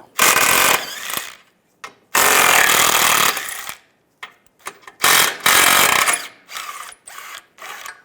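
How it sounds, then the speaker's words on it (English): Three 13mm bolts are run out of a 1998-2010 Volkswagen Beetle front wheel hub in loud, close rattling bursts from a power tool, separated by short silences and small clanks. "Now we're going to take these 3 bolts out using a 13mm socket."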